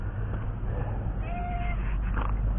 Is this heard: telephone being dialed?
no